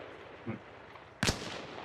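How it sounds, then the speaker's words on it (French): Gunfire in the military shooter game Arma Reforger, heard as one soft distant pop followed by a single sharper, louder shot with a lingering tail, set against steady background noise. "Ouais, j'entends des coups de feu."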